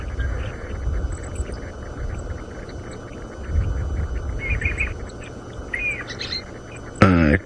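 Thin, high bird chirps and tweets played from a phone app repeat over a low background rumble of a safari vehicle, with a sharp burst of noise near the end.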